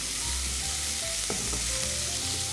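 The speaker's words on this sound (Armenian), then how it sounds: "Թողնենք մի փոքր թող տապակվի։" Grated potato frying in a pan, a dense, continuous sizzle at steady volume, close to the listener, with a brief stirring scrape partway through.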